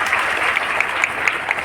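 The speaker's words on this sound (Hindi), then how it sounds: "लोग तालियों से सभी का स्वागत कीजिए।" Crowd at a public address gathering in Gorakhpur breaking into dense, steady applause, many hands clapping together at close range with no talk over it.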